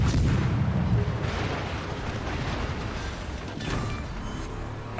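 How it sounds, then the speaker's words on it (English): Heavy booming salvos from the Bismarck's secondary guns in the naval game World of Warships, rolling dense thumps loud at the start, easing to a continuous rumble with a sharp crack at the end. "So those are Bismarck secondaries."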